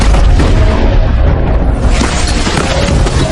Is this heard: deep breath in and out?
no